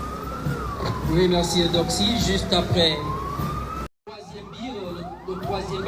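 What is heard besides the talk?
ambulance siren at a military parade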